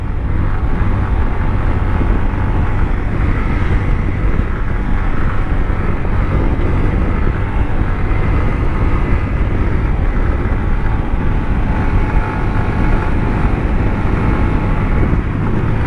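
A new motorcycle on the move, heard as a loud, continuous rush of engine drone mixed with heavy wind buffeting against the microphone, steady throughout with no voices.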